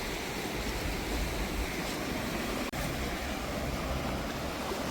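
Sea waves wash onto the Konkan coast at low tide as a soft, continuous surf, with wind buffeting the microphone and one brief dropout midway.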